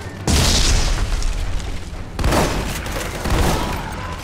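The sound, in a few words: explosions and gunfire in video game Army of Two: The Devil's Cartel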